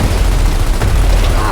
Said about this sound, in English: the beast goes down in a very satisfying hail of gunfire